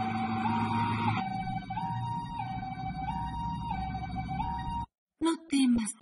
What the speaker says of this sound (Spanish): La ambulancia está en camino.